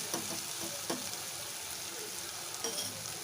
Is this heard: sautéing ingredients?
yes